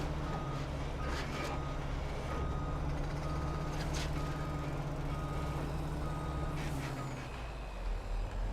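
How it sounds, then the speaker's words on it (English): A Volvo cab-over truck in Farming Simulator 25 reverses, its steady engine drone joined by repeating reversing beeps and a hiss of air brakes, all at moderate level with no talking. "Well, I think the Volvo's quite a nice truck."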